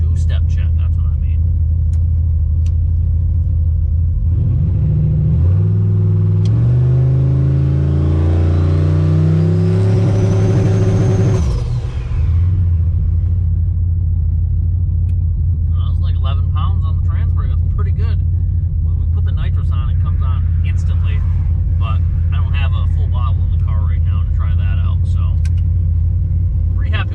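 A turbocharged, nitrous-fed LS-swapped Ford Crown Victoria holds a loud, crackling two-step rev limiter, its rising engine note climbing for several seconds before cutting sharply, then settling into a rough, lumpy idle with intermittent clicks and rattles.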